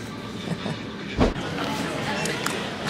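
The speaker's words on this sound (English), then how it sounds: "We're at the train station" Train noise at a Paris railway station: a steady rumbling background with clattering, a brief loud thump, and squeaky metallic accents, heard with people talking in the clip.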